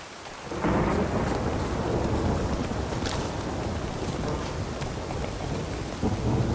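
Heavy rain pours steadily while thunder rumbles low and continuous, a dense, loud storm with no voices, in the video game The Witcher 3: Wild Hunt.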